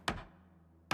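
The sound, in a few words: nailing plank barricade on window in Project Zomboid video game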